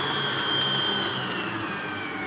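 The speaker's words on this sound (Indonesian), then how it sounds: "Jadi kita masukin ini telur sedikit-sedikit sambil dikocok ya. Jadi mixernya sambil jalan." An electric mixer runs at steady low speed, beating butter cake batter for a marble cake as eggs go in a little at a time, giving a continuous close whirring drone with no talk.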